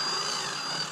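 Drill bit boring through an engine case in low gear on a Motovox engine build, a steady broadband grinding whir held close and loud for the whole second with no talk.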